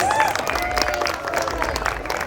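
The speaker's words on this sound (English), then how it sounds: "Please give these children a big round of applause." Audience clapping for children performing at a Sankranti cultural program, a short burst of steady applause with voices underneath.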